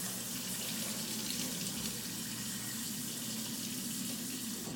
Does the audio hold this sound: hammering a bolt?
no